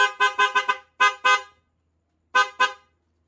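Dual horns on a Yamaha NMAX scooter, wired through a Bosch relay, blare in a quick series of short close honks, then two more after a pause.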